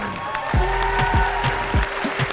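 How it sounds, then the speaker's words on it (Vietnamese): A Vietnamese TV show audience applauds to welcome beauty contestants, clapping under booming low thuds and some music-like tones in the studio. "chúng ta dành một tràng vỗ tay thật nồng nhiệt để chào đón những người đẹp"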